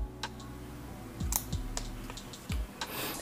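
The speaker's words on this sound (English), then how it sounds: "This back piece here is what's going to be peeled off, okay? So let's peel this off." Backing film is peeled off a Spigen tempered glass screen protector for a Galaxy Watch: a few faint, crisp clicks and crackles come at irregular moments against a quiet room.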